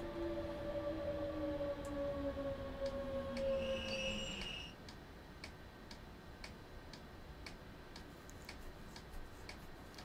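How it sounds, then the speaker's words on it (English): Regular ticking inside a train cab in Train Sim World 2 on the Munich to Augsburg route, evenly spaced clicks continuing over a low hum, with falling warning tones fading out in the first half. "Why is the train ticking?"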